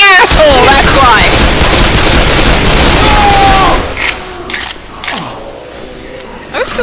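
Loud, sustained machine-gun fire from a teammate shooting in a co-op zombie video game, continuous bursts for several seconds, then tapering into scattered clanks and shouting voices.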